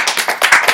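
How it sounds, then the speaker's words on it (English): Audience applause at a Tuesday Toast talk event about Humans of Sewanee, a short burst of dense clapping, close and loud, with no talk over it. "So give yourselves a round of applause."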